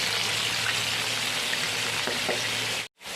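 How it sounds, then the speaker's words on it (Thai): Steady hiss of rain or sizzling fills a backyard kitchen as pork liver and pork belly cook, a dense even wash of patter that cuts off abruptly near the end. "ฝนตกบรรยากาศดีมากๆนะครับ"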